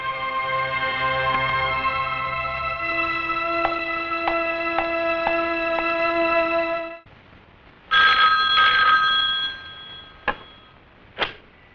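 An electronic telephone rings in a police station, sounding a long repeated warble for several seconds. After a gap come a few shorter bursts and clicks.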